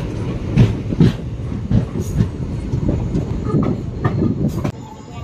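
The Mettupalayam–Thoothukudi Express passenger train rumbles steadily along with low mechanical roar and rhythmic clattering of wheels on rails, close by and continuous.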